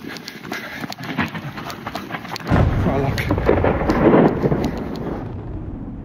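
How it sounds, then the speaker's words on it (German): Steady rain falls in the Balkan mountains, a dense broadband patter at the start that becomes heavier and fuller partway through, with a low rumble mixed in and no talking. "Aber jetzt regnet es halt."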